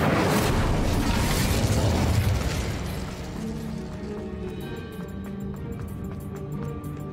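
A fire spell cast in the Hogwarts Legacy video game lets out a loud roaring whoosh and burst that fades into a lingering crackling hum.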